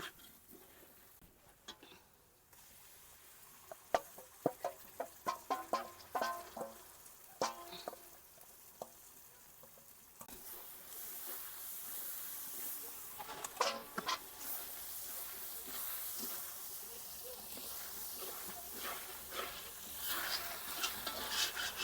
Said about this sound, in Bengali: মশলাটাকে এবার ভালো করে কষিয়ে নিব